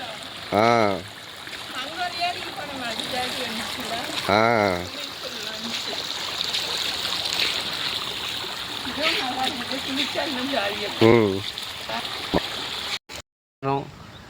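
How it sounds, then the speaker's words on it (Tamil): Water running steadily along a rural canal on a hot sunny day, a continuous rushing and splashing flow heard close by, with a voice speaking over it in several short bursts. "அந்த லாங் ஃபுல்லாக தண்ணி தான் போயிட்டு இருக்குது"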